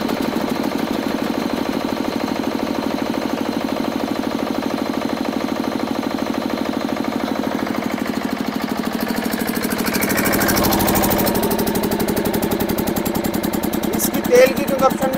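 A 10 kVA air-cooled or water-cooled diesel generator on a trolley with big tyres runs steadily nearby, a continuous mid-pitched engine drone with a slight surge partway through and a couple of brief knocks near the end.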